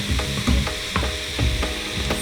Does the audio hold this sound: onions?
yes